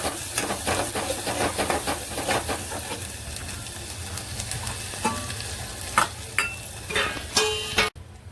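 Garam masala and Kashmiri red chilli being stirred and sautéed in a pan for a Holi puran poli thali, a steady close sizzle with spoon scrapes and clinks rising toward the end.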